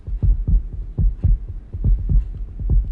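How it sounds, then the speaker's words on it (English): Heartbeat sound effect from the video game 428: Shibuya Scramble, a fast, galloping series of deep, muffled thumps in quick pairs, loud and close, with no voices. "The galloping heartbeat was back."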